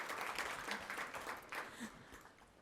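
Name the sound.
audience applause after panel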